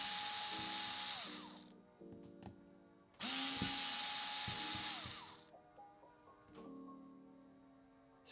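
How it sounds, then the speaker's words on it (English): A power screwdriver whirs in repeated bursts while backing screws out during a JBL Tuner 2 teardown. Two long, loud spins are separated by shorter, softer ones, with small clicks between them and no talking. "we'll just insert it and extract all those screws"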